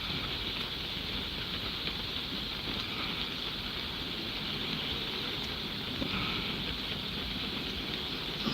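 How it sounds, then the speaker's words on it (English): Steady rain falls without a break, a dense, even hiss with soft patter that holds at the same level throughout and has no talk over it. "Listening to the rain."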